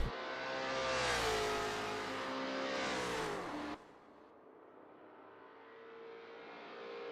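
A race car screams through the revs on a qualifying hot lap in Assetto Corsa, the engine note rising and falling with gear changes before cutting abruptly to a quieter, steady drone as the car passes away.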